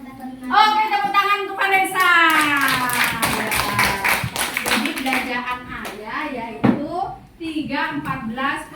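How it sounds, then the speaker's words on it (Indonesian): Classroom clapping for a pupil named Vanessa, quick rhythmic hand claps from students mixed with children's voices chanting and talking over them. "tepuk tangan untuk Vanessa"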